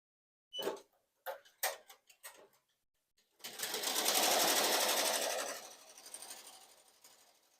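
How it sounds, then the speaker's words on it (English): A sewing machine satin-stitches appliqué onto glitter vinyl: a few separate clicks first, then a loud, fast, continuous whirring run of stitching close up that fades as it slows. "I'm going to let it stitch all the way through just like that on the glitter vinyl, down to the satin stitch"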